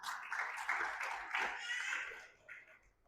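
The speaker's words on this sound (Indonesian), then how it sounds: "Tepuk tangan bagi Tuhan kita." A church congregation claps together, a brief burst of applause with voices and faint laughter mixed in, fading toward the end.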